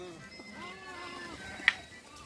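A flock of about a hundred sheep on the move from Mallavolu toward Gannavaram gives soft, wavering bleats over a steady outdoor murmur, with one brief sharp click near the end.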